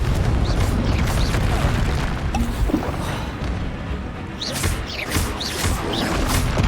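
A Confringo blasting spell in Hogwarts Legacy, with repeated crashing booms and smashing impacts amid steady rumbling action noise over several seconds.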